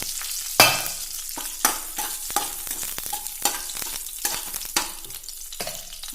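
Dried red chilies sizzle in hot tempering oil with curry leaves for curd rice. Sharp crackling bursts and spatters come in an irregular rhythm over a lighter steady sizzle, close and clear.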